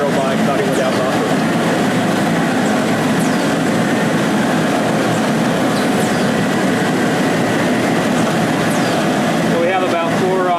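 An Atria HP cutting machine slices knit fabric at high speed, giving a steady, loud mechanical drone with dense broadband hiss and faint whirring runs throughout; voices talk over it.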